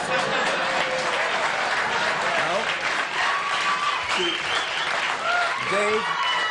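A talk show studio audience applauds loudly and continuously, with a voice speaking over the clapping in places.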